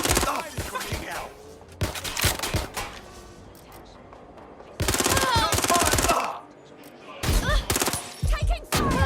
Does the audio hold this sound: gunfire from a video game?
yes